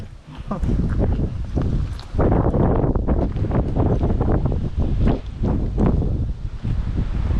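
Strong wind buffets the microphone in loud, gusty rumbles with rustling bursts throughout, close and constant.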